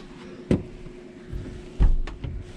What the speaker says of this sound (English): Get this door closed.